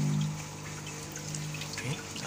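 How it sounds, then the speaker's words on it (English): Water from a freshly started aquaponics siphon pours into a tank holding about 20 catfish, a steady soft trickle and splash at moderate distance, with no voices. "The water is about to dump in from here, like you can see. The siphon just got started."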